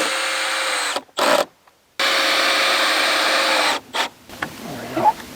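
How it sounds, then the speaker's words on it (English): Power drill driving a screw at an angle into wooden blocks of a pallet sheep pen, two close, loud whirring bursts broken by short stops, followed by brief clicks and handling noise as it ends. "So we're just going to toenail a screw into there."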